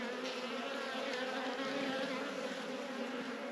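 Honey bees at a hive fed with fondant, a continuous dense buzzing swarm close by, steady and moderately quiet with no talking.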